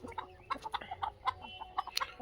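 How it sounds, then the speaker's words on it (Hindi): A desi hen clucks repeatedly in short, irregular bursts after laying an egg, calling to get out of a free-range poultry enclosure; the calls are close and moderately loud, with one sharper squawk near the end. "ये वो मुर्गी तो अंडा दे के आएगी, इसलिए वो बाहर आने के लिए आवाज़ें कर रही है"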